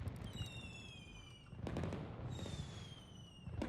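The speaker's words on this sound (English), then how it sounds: "Why are there fireworks?" Fireworks going off in the Rise of Industry video game: a quick run of crackling pops and bangs with whistling rising streaks, bursting in two clusters over quiet game ambience.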